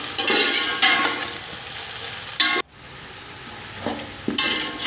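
Onions frying in about 200 ml of hot oil for a black chana dish, a loud continuous sizzle broken by bursts of stirring, with one sharp clatter partway through.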